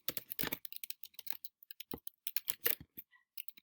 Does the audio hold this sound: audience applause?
no